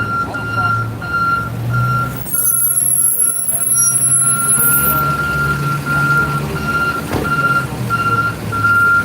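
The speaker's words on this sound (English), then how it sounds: "Tow truck." A tow truck reverses during a homeless encampment sweep, its steady reversing beeper pulsing evenly over a low diesel idle and street noise, with a brief high squeal midway.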